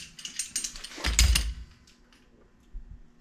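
Vintage Craftsman tool being lightly screwed down, giving a quick run of close ratcheting, clicking mechanical sounds followed by a single soft thud.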